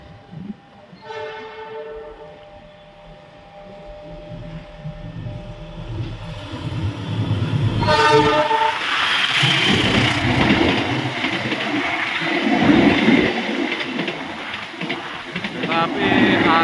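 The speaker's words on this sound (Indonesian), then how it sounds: "lokomotifnya sudah terdengar dari kejauhan" A CC206 diesel locomotive approaches and passes, its horn sounding in short blasts while the engine rumble and wheel noise build to a loud, close roar. A voice talks over the start.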